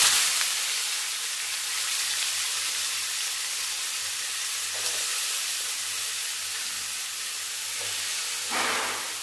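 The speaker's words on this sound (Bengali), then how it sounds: "এই যে কড়ায় তেল দিয়েছি, তেল গরমও হয়ে গেছে। আর এদিকে আলু কেটে একটু নুন আর হলুদ মাখিয়ে আগে ভেজে নেব।" Potatoes coated with salt and turmeric fry in hot oil in a kadai, producing a continuous, even hiss and sizzle at moderate volume with no voices.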